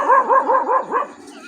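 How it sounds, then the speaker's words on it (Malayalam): A frightened dog barks in a quick run of four or five sharp, yelping barks, fairly close, the last one trailing off into quiet outdoor air. "പേടിച്ചിട്ട് കുരയ്ക്കുകയാണ്."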